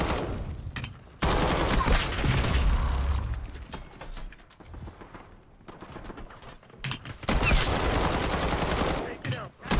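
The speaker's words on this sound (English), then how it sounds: "Nail gun." A nail gun fires in a video game in two long bursts of fast, rattling mechanical shots separated by a quieter stretch, with a voice talking in between.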